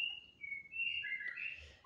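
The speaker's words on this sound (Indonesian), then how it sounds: "ini murai Borneo teman-teman ya" A white-rumped shama sings clear, sliding whistled phrases, fairly close, with fluttering high notes over a quiet background.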